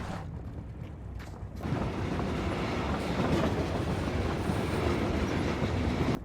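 A train rolls along rails in the PUBG video game, a steady loud rumble with clickety-clack and creaking mechanisms that swells after the first second and keeps going, with no talking.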